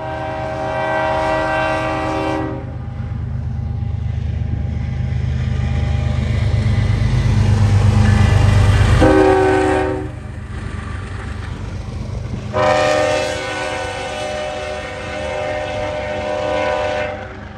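Freight train of NY/NJ trash cars passing close, led by a heavy locomotive with an MP15DC switcher dead in tow, a loud continuous rumble with rail clatter and horn blasts at the beginning and end; no talking.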